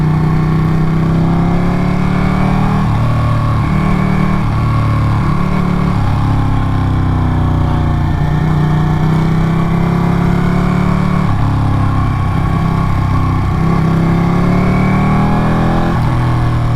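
Ducati Panigale 959 sport motorcycle running steadily through tight twisty mountain road corners, its engine droning loud and continuous with repeated dips and rises in pitch as the rider works the throttle, no talk over it.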